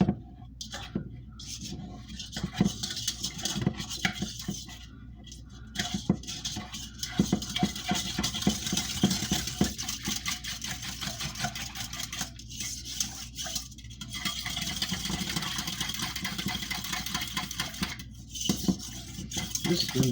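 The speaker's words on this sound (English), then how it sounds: "Alright, we're going to give this a good mix." Swedish meatball ingredients, seasoned with soy sauce, being mixed by hand in a bowl, producing continuous close wet squelching and clicking stirring sounds with brief pauses, no speech.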